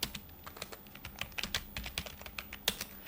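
Typing on a computer keyboard while entering bulleted text in a word processor: a quick, uneven patter of close key clicks with a few sharper strikes, and no voices.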